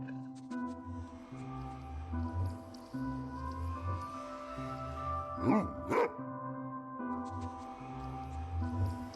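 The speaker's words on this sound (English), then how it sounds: "Ignoring the portal and dog sounds." Dog barking in the Minecraft video game, a few sharp yelps that stand out over steady layered background game music and ambience.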